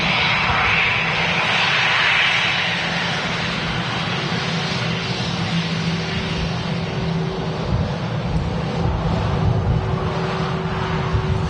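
Airbus A320 arriving at Manchester Airport on a windy day, a broad steady jet roar holding throughout at moderate distance with wind noise and no talking.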